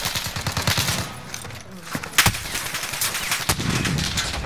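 Rapid automatic gunfire in Call of Duty Modern Warfare Rebirth, dense bursts of close shots followed by scattered single cracks, loud and punchy.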